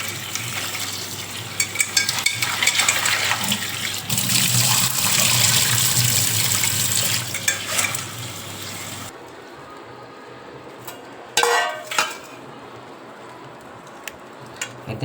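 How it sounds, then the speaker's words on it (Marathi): Live creek crabs being washed: water splashes and pours steadily for several seconds, then stops, leaving a quieter stretch broken by a couple of short wet clatters nearby. "हे खाडीतले खेकडे आहेत आणि हे आता कसे धुवून घेतले जातात."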